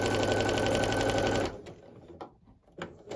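A sewing machine runs at a steady, fast stitch while joining quilt block pieces for an Irish Chain with a Star block, then stops about halfway, leaving faint handling sounds and quiet rustles.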